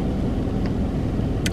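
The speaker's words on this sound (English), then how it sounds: "the heaters going off in the car" Steady broadband blowing of a car heater fills the cabin as a constant close rush with no talking, and two faint brief clicks are heard near the end.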